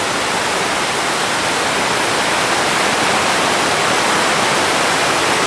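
Mountain stream running high at a trail crossing in the Colorado Rocky Mountains, a loud, dense, steady rush of water that fills the whole moment without a break.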